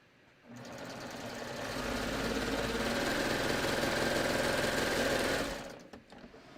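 A sewing machine stitches a knit neckline strip, running as one steady, close, motorized whir for about five seconds before stopping. No one speaks.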